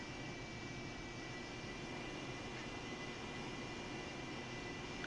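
A Harrier jet in a flight simulator game takes off from a runway with a steady, faint roar of jet engine noise and a high whine, even and unbroken throughout.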